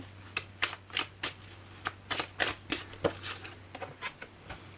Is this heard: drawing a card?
yes